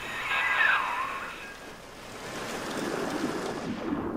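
A water splash in BioShock 2 as the player enters water, a broad rushing wash fading into a lower murmuring swirl, steady and fairly loud with no talking.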